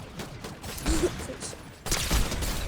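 Gunfire in the Fortnite video game: a scattered, fairly faint volley of shots with some mechanical clatter, followed by a sharper burst near the end.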